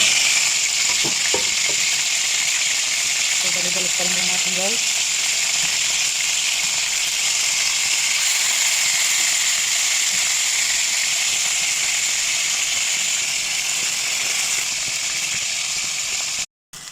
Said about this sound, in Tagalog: tapusin lang natin yung pag-prito.